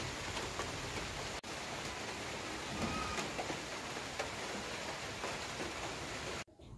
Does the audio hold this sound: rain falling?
yes